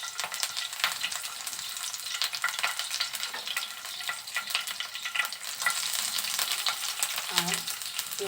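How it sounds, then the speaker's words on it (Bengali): Green chilies and chopped onion fry in hot oil in a pan, a continuous close crackling sizzle with busy spitting pops and occasional stirring, running steadily without talk. "পেঁয়াজ কাঁচামরিচ ভাজা হয়ে গেছে,"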